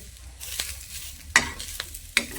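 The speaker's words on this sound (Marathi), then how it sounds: "आता मसाला टाकायचा सगळा, तळून घेते सगळा तळून घेते." Masala frying in a pan after onions for an egg-paneer curry gives a quiet sizzle broken by sharp stirring clacks and spatters at irregular moments, with no voices.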